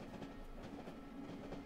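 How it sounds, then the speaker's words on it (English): A train in the video game Cry of Fear rolls down the tracks, giving a quiet, steady rumble with soft rhythmic clacking. "So we're riding down the tracks."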